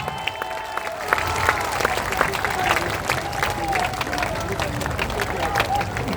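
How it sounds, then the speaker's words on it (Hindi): Audience applause welcoming the Jan Suraj party's acting national president at a political event, steady dense clapping from a crowd throughout with faint murmur. "जोरदार ताली बजाइए।"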